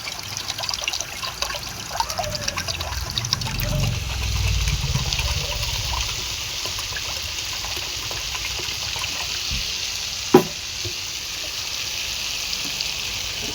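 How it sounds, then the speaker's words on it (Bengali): Water from a bowl is poured onto vegetables and spices cooking in a pan, a close trickling splash that swells for a few seconds and then settles into a quieter sizzle, with one sharp clank partway through. "এই বাটিতে এবার পরিমাণ মতন জল নিয়ে নেব, এই জলটাই দিয়ে দেবো।"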